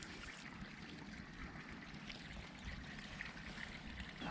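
Water trickles steadily into a Japanese rice field as it fills, a faint continuous outdoor wash with no distinct events and no one talking.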